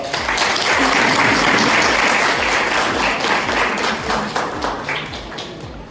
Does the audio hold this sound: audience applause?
yes